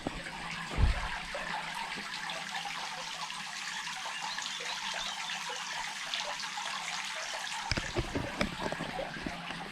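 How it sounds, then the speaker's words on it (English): A water feature in the Black Forest trickles and splashes in a steady, close wash of water, with one soft knock near the start. "Fab water feature."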